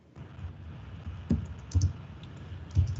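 Several scattered clicks of typing on a computer keyboard, soft keystrokes coming in small clusters at uneven intervals over a quiet room background.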